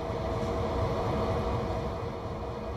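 A CSX heavy-haul diesel locomotive runs in the Train Sim World simulator, giving a dense, steady low rumble of engine and rolling stock that sounds continuous and close without any voices.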